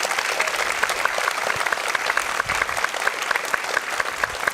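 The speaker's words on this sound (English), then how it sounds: "give David a round of applause" Sustained audience applause at a film Q&A event, a dense, even wash of many hands clapping with no talk over it.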